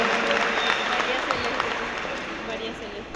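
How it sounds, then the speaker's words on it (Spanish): A church audience applauds in a sustained, fairly loud burst of clapping while a voice talks over it. "Un aplauso para la mamá de ella también"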